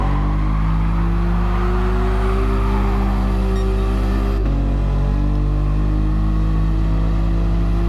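Car engine in Gran Turismo Sport held on a steady drone through a drift lap, a brief dip midway before the revs settle back to a sustained, loud tone with no voices.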